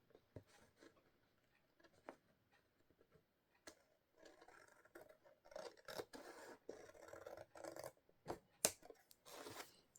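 Scissors snip and trim paper for a handmade journal, faint and close, starting as sparse isolated cuts and building into quicker runs of crisp snips with a light scratchy rustle of paper.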